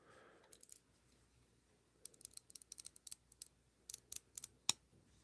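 A Spyderco folding knife with ratcheting bearings gives quiet, crisp clicks in quick bursts and clusters, close up against a near-silent background.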